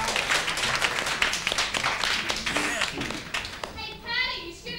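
Clapping and applause at a school dance decorated in a tropical theme, dense and fairly close for most of the stretch, mixed with chatter and a few thuds, then thinning as a voice speaks near the end.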